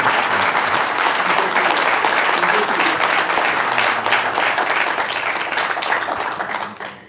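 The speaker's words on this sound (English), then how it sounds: "That means applause." A crowd at a public talk on local job creation in eastern North Carolina applauds loudly and continuously, a thick sustained clatter of many hands that fades away near the end.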